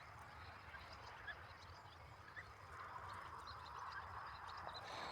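Young goslings hatched from incubated eggs, soft high peeping scattered over a low background rumble, faint and close, with no talk.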